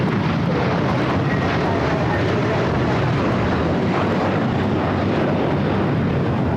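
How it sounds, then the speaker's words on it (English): A Boeing 737 airliner passes low near LAX, a steady, loud broadband roar of jet engines that holds throughout with wind-like rumble and no clear rise or fall. "The 737 is really low to the ground."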